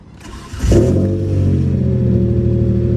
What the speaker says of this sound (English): you guys can hear the lifter tick right away